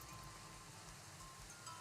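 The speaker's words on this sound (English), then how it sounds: "It is raining." Soft, steady rain hisses faintly in the RimWorld video game, a quiet, even wash of drops with no talking.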